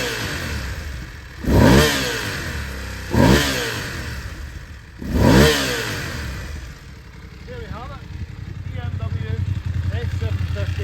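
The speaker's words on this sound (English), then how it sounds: "Let me give it a few revs, you can hear how she sounds." A 2022 BMW F750GS motorcycle engine is revved three times, each rev surging up and falling away, then settles into a rough, burbling idle.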